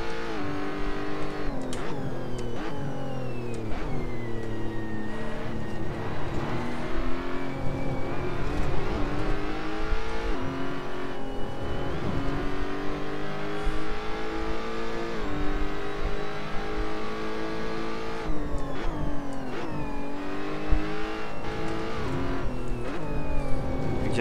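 A GTC race car engine in Assetto Corsa revs hard and continuously, rising and falling through gear changes with sharp shifts, a dense mechanical howl heard alone without talk.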